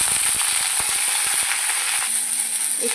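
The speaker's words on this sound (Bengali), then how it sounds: "তেলটা গরম হয়ে গেছে কড়াইটা অনেকক্ষণ থেকে বসিয়ে রেখেছিলাম এর মধ্যে আমি দিয়ে দেবো ভিন্ডি" Whole okra fries in hot oil in a wok, giving a loud, steady hiss of sizzling with scattered sharp crackles and pops running through it.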